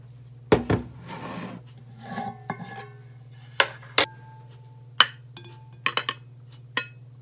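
Flour is measured and added to a mixing bowl in a home kitchen, with sharp clinks of a measuring cup against glass, a soft scraping rasp and scattered light taps, close and isolated over a low steady hum.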